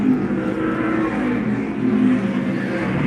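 A race car in a Grand National Super Series race at Dominion Raceway drives past as the checkered flag falls, its engine a loud, continuous roar with slight swells in pitch and volume, with no voices over it.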